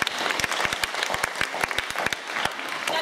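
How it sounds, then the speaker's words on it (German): Applause for a gymnast at a national competition final: many sharp, individual claps overlap into a lively, uneven patter from a nearby crowd, lasting the whole stretch with no talk. "Dafür schon mal einen dicken Applaus."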